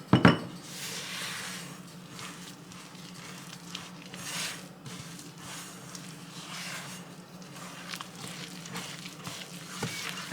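Cornmeal pancake batter mixed by hand in a bowl, with a steady wet squish and scrape punctuated by clinks of utensil against the bowl, a sharper knock near the start and end, no talking.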